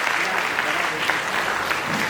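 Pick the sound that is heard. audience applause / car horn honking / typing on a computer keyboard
audience applause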